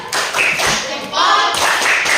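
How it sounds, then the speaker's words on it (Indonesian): A group in a computational thinking training session claps on cue in a rhythmic pattern, loud close bursts of synchronized claps and taps in two quick sections separated by a short break. "beri tepuk salut."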